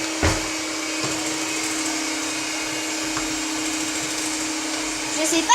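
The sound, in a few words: kitchen robot food processor running loudly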